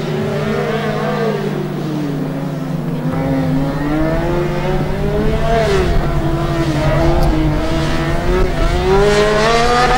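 A Formula Student race car runs a 2009 endurance event, its engine droning steadily and rising and falling in pitch as it revs through the lap, loud and continuous throughout.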